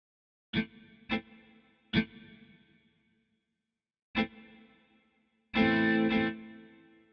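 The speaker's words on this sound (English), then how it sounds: "Something is a rhythm guitar is a 1951 Fender Telecaster electric guitar going through a Leslie speaker" A 1951 Fender Telecaster electric guitar played through a Leslie speaker strikes short rhythmic chord stabs, three quick hits, a pause, another hit, then a longer swirling held chord, heard alone and close.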